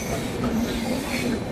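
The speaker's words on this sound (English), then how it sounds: "Now the train is going on the main line." A passenger train on the Jaipur to Rewari line running along the main-line rails, a loud, close, continuous rumble and rattle with a thin wheel squeal riding over it.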